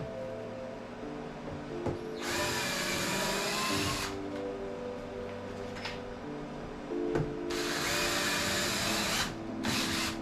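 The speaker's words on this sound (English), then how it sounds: "I've got one drill set up to just drill some screw holes" A power drill boring screw holes in trim for a toy dream house, heard in several sustained whirring bursts of a couple of seconds each over a steady background hum.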